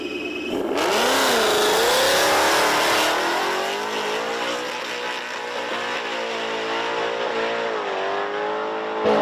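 A 5.0 Mustang drag races down the strip at Virginia Motorsports Park in a modern muscle class pairing, its V8 roaring loudly as it launches and revs hard, then the engine note steadies and fades as the car pulls away.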